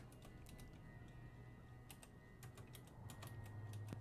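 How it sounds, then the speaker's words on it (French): Quiet, close keyboard typing in irregular bursts of soft clicks, with a faint steady hum beneath and no talking. "on peut taper au clavier"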